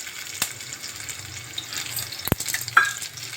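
Green chillies dropped into hot oil in a pan crackle and fry, a soft sizzle broken by a few sharp pops and spits, close and fairly quiet, with no talking.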